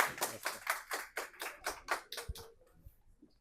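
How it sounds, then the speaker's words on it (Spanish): Brief applause from a small audience at a talk on legal capacity and neurodivergence: about ten rhythmic, evenly spaced claps, fairly quiet, fading out with a couple of soft thumps at the end. "Un aplauso,"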